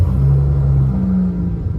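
Engine of a 2013 Dodge Charger with a V6 turning over from push-button start, a steady low rumbling idle close by with a brief rise in revs.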